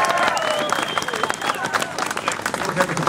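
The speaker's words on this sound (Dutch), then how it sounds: "Alvast een daverende applaus." Applause from an audience at a Christmas charity event in Raalte, steady dense clapping with some crowd noise filling the whole stretch at a fairly loud, even level.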